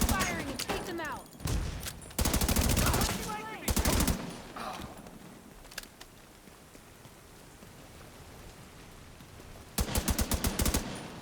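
Automatic weapon fire in The Division 2 comes in loud rapid bursts separated by quieter stretches of ambient game noise, with a final burst near the end and some voice chatter early on.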